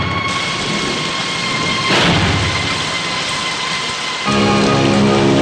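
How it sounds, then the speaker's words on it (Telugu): Heavy rain pours down steadily and loudly, swelling briefly partway through, with a faint tonal hum underneath. "పదరా, వర్షం వస్తుంది."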